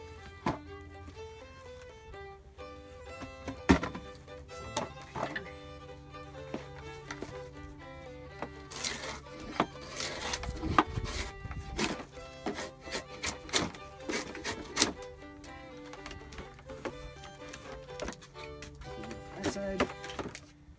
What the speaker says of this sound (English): So I'm going to take that on down with a draw knife